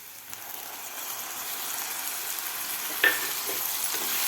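Tomatoes sautéing in a pan with onions for a dhaba-style peas and spinach curry give a steady, moderate sizzle, with a single sharp utensil clink near the end and no talking.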